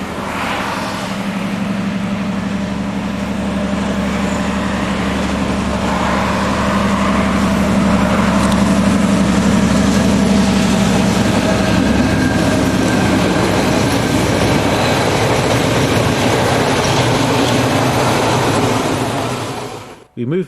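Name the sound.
M62-145 diesel locomotive train rounding a bend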